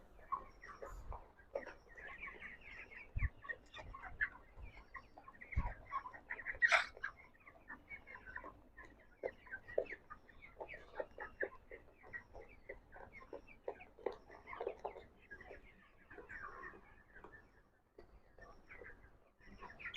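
Broiler chickens feed on a farm, with soft, scattered clucks over a dense patter of pecking at the feed, faint and steady throughout.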